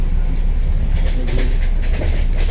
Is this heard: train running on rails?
yes